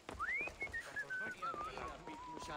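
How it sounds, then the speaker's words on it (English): A gliding, tuneful whistle from a character in the video game Assassin's Creed Odyssey, drifting down in pitch over a couple of seconds, with a voice and faint background activity underneath. "The whistling"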